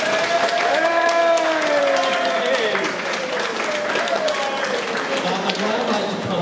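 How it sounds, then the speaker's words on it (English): Participants on a British Rail Class 315 railtour day trip give themselves a sustained round of applause, a dense continuous wash of clapping with a few cheers while a voice carries on speaking over it. "round of applause for yourselves."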